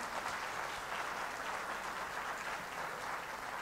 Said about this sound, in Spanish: El auditorio le brinda un aplauso